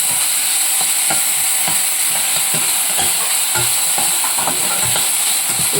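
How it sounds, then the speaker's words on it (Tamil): Onion and curry leaves fry loudly in a hot pan, a dense, constant sizzle overlaid with regular scraping and tapping strokes from a spoon stirring close by. "வெங்காயம், கருவேப்பிலை போடுறேன். நல்லா வதக்கிக்கிறோமா."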